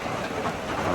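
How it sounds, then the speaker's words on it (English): Heavy rain drums on the metal roof of Gooch Mountain Shelter on the Appalachian Trail, a dense, loud, continuous clatter with no voices. "it's really raining now. This metal roof is pretty loud."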